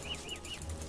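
In the survival video game Don't Starve, a bird flaps its wings in quick, soft repeated beats, close by and moderately quiet against a low background hum.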